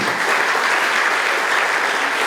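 Dense, steady applause from a ceremony audience at an education initiative launch, a thick wash of clapping holding evenly loud for a couple of seconds.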